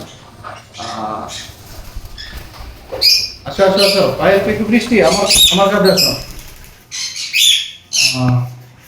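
Pet pineapple conures and lovebirds squawk and chirp in bursts, loud and close, with a person talking among the calls.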